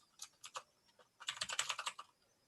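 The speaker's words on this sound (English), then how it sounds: "So if I were to type Windows" Close, quiet clicks of someone typing on a computer keyboard: a few separate keystrokes, a short pause, then a quick run of taps, with no voice.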